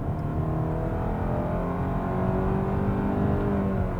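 A gas-only 2022 Hyundai Tucson with a 187-horsepower engine accelerating, a steady engine drone with a slowly rising tone heard from inside the cabin, constant and moderately loud throughout with no voices.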